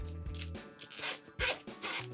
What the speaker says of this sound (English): Zips around the edge.